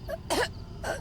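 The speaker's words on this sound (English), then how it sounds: "she started coughing" A few short, rough coughs or throat-clearing bursts, close and fairly quiet, in quick succession.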